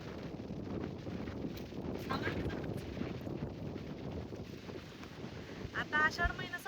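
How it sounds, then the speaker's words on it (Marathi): Steady wind gusting across an open farm field planted with young fenugreek and coriander seedlings on a rainy monsoon morning, a continuous rough rumble with buffeting on the microphone, rising briefly near the end. "आता आषाढ महिना संपेपर्यंत असंच वारं राहणार 24 तास"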